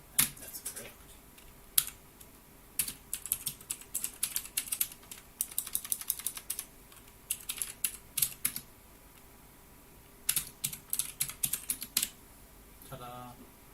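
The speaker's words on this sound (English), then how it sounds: "I wonder if you guys can hear my keyboard." Rapid bursts of clicky typing on a computer keyboard come in uneven flurries with short pauses, close and fairly crisp over a quiet room background.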